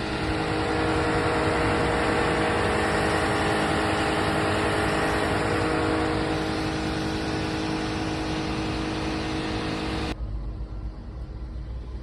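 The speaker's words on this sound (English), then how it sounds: "The truck was packed to the brim with debris." A scrap collection truck loaded with shed demolition debris idles close by. Its engine gives a steady mid-pitched drone with a constant tonal hum for about ten seconds, then drops off abruptly, leaving quieter background.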